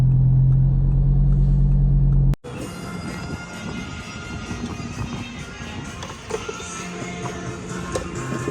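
An Audi TT RS tuned with a Syvecs ECU and running 40 psi of boost cruises on back roads. A loud low drone cuts off abruptly, then steady broadband road and engine rumble continues from inside the car.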